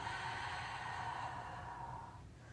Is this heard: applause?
no